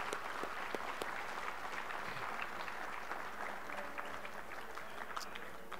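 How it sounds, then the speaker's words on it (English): An assembly audience at a school alumni awards event claps for the class of 2021, a fairly quiet, even round of applause with scattered sharp claps sustained throughout. "give them a round of applause."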